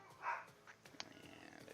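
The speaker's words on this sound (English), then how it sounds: "You can hear my dogs in the background." Dogs bark faintly in the background, one short yip-like bark near the start followed by a few quieter sounds, distant and low in level.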